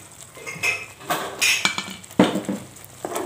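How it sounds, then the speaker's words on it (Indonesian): Spices being stir-fried in oil in a pan for Indonesian ketupat sayur, with a utensil clinking and scraping against the metal in irregular close taps and scrapes, no talking. "Oke, kita tumis hingga benar-benar harum ya, hingga benar-benar keluar aromanya"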